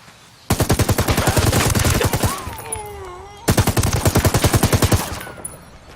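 Two long bursts of rapid automatic gunfire in a video game, either Ghost Recon Wildlands or The Division, each a dense, evenly spaced rattle of loud close shots lasting about two seconds, with faint ringing tones and debris between bursts.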